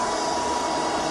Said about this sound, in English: Since when do you vacuum a tile floor?